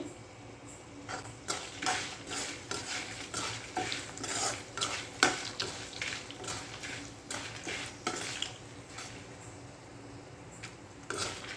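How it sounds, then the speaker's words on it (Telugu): Veld grape (nalleru) pieces and tamarind fry in a pan, with repeated scraping stirs and clinks over a steady sizzle; no one speaks. "ఇవి తీసేసుకుని సపరేట్గా అవి వేయించుకుందాం దీంట్లోనే చింతపండు కూడా వేసేసుకుందామండి"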